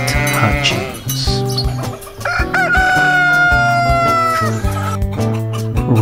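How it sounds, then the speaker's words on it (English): A hen clucks and a rooster crows loudly and close in a farmyard, with repeated clucks and long drawn crowing calls layered over bright musical tones. "Rosie the Hen went for a walk"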